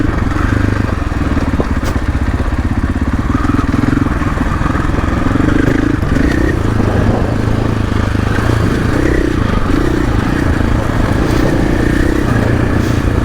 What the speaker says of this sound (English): this is my first KTM, first 500 I've ever ridden as well